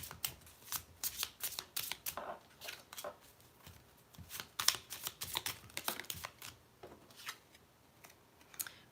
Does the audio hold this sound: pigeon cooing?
no